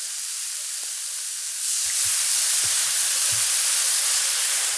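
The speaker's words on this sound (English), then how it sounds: "Next, we're going to add some wine. We're going to deglaze the pan with it." Dry white wine poured into a hot chicken pan sizzles up into a broad, steady hiss that swells after a moment and holds, with a few faint low knocks beneath it.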